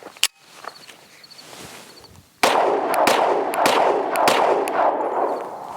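A Springfield Armory Hellcat Pro pistol with an RDP slide firing 90 grain +P ammunition, heard as a sharp report followed by a dense run of loud, closely spaced shots in rapid succession.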